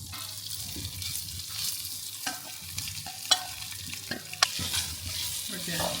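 Food tossed and frying in a pan with a modest amount of oil, a steady soft sizzle with scraping stir noises and a few sharp utensil clinks, close by and without talk.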